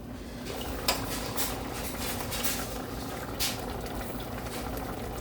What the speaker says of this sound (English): I like to wash dishes as I go because I don't like a lot of dishes or whatever. So I'll be washing as I go.